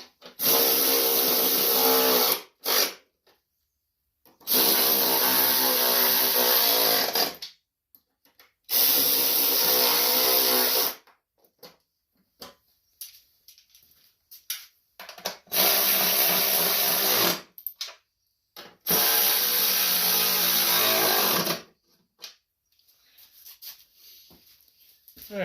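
A power tool runs in five long bursts, each a few seconds, tightening bolts on a John Deere LT180 riding mower's 48-inch deck, loud and close, with short quiet gaps between runs.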